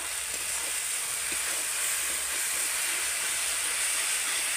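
Spice paste sizzles with a steady, loud hiss in a pan as coriander powder is stirred in, continuous frying noise with no talking.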